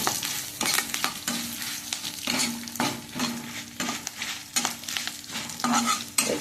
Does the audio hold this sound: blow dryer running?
no